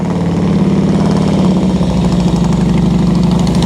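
A motorcycle running at low throttle during slow-speed cone practice, a loud, steady close engine drone with an even low rumble and no change in pitch.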